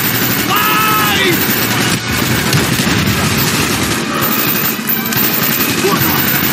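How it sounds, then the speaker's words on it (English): Sustained gunfire in Call of Duty: Black Ops during a fight to lock down an armory, a steady dense rattle of automatic weapons with shouted voices over the din. "Keep firing! Fire!"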